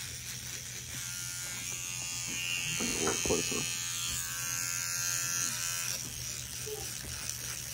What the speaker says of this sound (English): I've got this nice electric toothbrush.